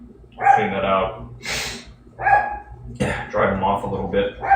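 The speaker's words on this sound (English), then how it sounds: "He's outside barking, but he has access to come in as he wants." Paul, a pet dog outdoors, barks in loud, close bursts with pauses between them, while a person talks over and between the barks.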